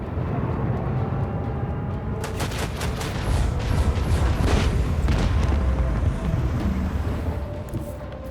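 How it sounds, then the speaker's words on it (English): Spaceship cannons fire in the video game Rogue Trader, a dense barrage of booming blasts and sharp gunfire-like cracks layered over a constant heavy rumble, loud throughout with no talking. "And then I can hit with my dorsal cannons."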